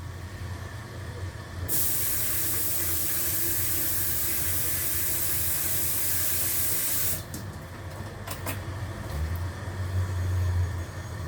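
A steady loud hiss of boiling water lasts several seconds as grouper and bitter melon are blanched, then cuts off, leaving low background rumble and a few clinks.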